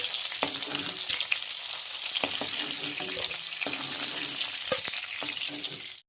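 Bami fish fry in a pan in an Assamese kitchen, giving a continuous crackling sizzle with occasional sharper pops and stirring clatter, close and fairly quiet, before cutting off abruptly.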